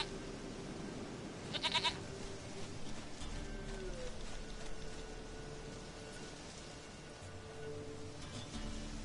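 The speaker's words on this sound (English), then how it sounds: "Goat of mine, dearest, sweetest goat" A goat bleats in a PS4 video game, one brief nasal bleat rising above a quiet ambient background of low game sounds and faint bird-like chirps, fairly close.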